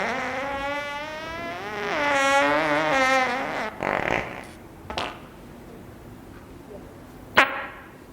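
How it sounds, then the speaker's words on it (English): A fart during a lively radio-show interview with comedic guests, a brief burst among loud harmonic voice-like sounds with people talking around it. "Was that a fart?"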